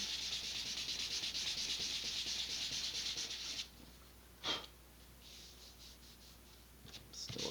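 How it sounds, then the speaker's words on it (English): Steady, close rasping of sandpaper rubbing back and forth along a seam of an Estes Sentinel model rocket for several seconds, then it stops, leaving a quiet room with one brief scrape. "I'm just going to focus my sanding efforts right along that seam"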